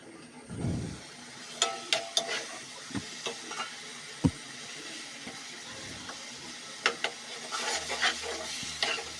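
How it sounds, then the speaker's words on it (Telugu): Fish pieces fry in oil in a pan alongside drumsticks, under a quiet, steady sizzle. Sharp scraping and clacking from a stirring utensil cut in irregularly, and no one speaks. "ఇందులో చేప ముక్కలు వేసి మళ్ళీ ఒక 5 నిమిషాలు అలా నూనెలో వేపుకోవాలి."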